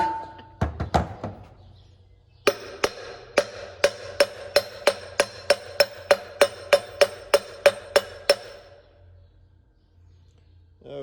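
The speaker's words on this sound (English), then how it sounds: "That way it gives me a good smooth surface to hammer on." Steel hammer strikes on a small steel press plate while seating main separator clutch bearings on a Gleaner R72 combine: about fifteen loud, ringing metallic blows in a steady, even rhythm, after a few heavier thuds at the start.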